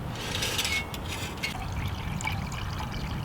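Water pours steadily from a kettle spout outdoors with a hissing, gurgling trickle that shifts in tone as the stream changes, close by and without talk.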